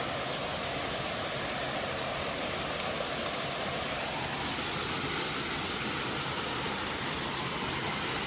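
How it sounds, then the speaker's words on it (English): Two waterfalls in a holler swollen by heavy rain produce a broad, unbroken hiss and roar of rushing water, loud and constant throughout, with no one speaking. "Two waterfalls right here."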